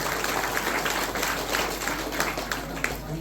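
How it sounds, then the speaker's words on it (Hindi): Crowd applause welcoming the chief guest at a public function, steady clapping at moderate level over a low hum, continuing throughout. "एक बार तालियों से अभिनंदन करें माननीय मुख्य अतिथि महोदय"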